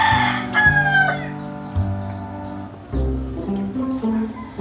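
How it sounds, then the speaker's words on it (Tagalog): Outdoor chickens cluck repeatedly while a rooster crows loudly nearby, the calls overlapping in a busy, close barnyard chorus. "Pasensya na rin sa mga manok kasi dami pong"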